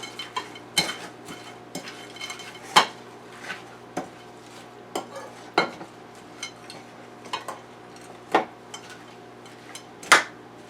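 Croutons being tossed through a Caesar salad, a run of irregular clinks and scrapes of utensils against the bowl, close and moderately loud, with quiet gaps between strokes and no talking.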